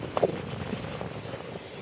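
Outdoor wind blows across the microphone in a steady, breathy rumble with faint rustling, moderately loud and unbroken, with no one speaking.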